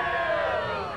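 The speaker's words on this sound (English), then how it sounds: "the historic Yale Bowl as the crowd continues to file in" A large football crowd filing into the historic Yale Bowl before a Yale–Dartmouth game, a steady dense murmur of many voices with a bright tonal layer above it, continuous and fairly loud for a brief moment.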